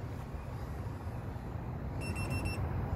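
A Marmot wireless drone buzzer gives three short, high beeps at a distance outdoors, faint over a steady low background rumble.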